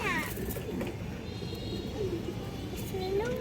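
A pigeon coos softly and close by, low throaty calls rising a couple of times over a murmuring background of voices and children.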